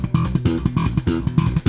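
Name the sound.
slapped triplets on bass guitar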